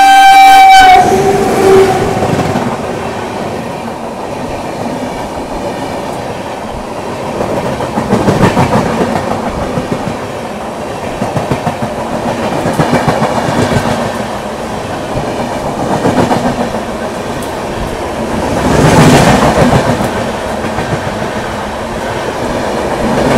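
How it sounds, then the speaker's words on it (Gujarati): The 11463 Veraval–Jabalpur Express rumbles loudly and steadily as it runs into Anand Junction, heard from inside the train. A brief horn tone sounds at the start, then rhythmic wheel clatter surges and fades in waves. "આપણી ટ્રેન આવી ગઈ છે આણંદ જંકશન ઉપર"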